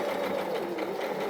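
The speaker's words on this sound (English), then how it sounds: "join 2 pieces together with a machine stitch just going down there" A sewing machine runs a continuous fast, even whirr while stitching two pieces of fabric together, close and steady throughout.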